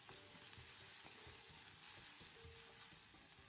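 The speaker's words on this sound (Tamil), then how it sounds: "பாதி கேப்சிகமும் சேர்த்து ஹை ஃப்ளேமில் நல்லா வதக்கலாம்." Ginger-garlic paste, green chili, chopped carrot and capsicum sautéing in a pan over a high flame for egg poha, giving a constant, even hiss of frying with faint stirring.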